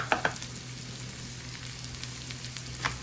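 Cut peppers sizzle in a pan for a cheese omelette, a steady close frying hiss with a couple of quick clicks at the start and another near the end.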